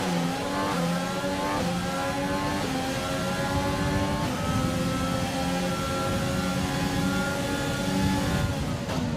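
Formula 1 race car engine in the F1 2020 game, a loud continuous high-pitched whine with stepped harmonics rising through upshifts, closely chasing another car in its slipstream down a DRS straight, no talk.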